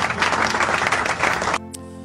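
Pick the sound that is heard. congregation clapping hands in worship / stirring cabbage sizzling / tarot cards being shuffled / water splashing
congregation clapping hands in worship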